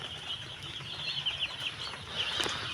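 Dense high-pitched peeping from many day-old broiler chicks in a brooding area, a continuous busy chorus with occasional soft flutters, fairly close and steady throughout.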